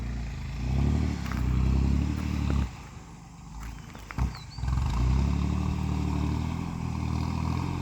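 A modified Thai walking tractor with a souped-up four-pipe engine revs loudly nearby, a rough, heavy drone that drops off briefly mid-way with a clatter before roaring back steady.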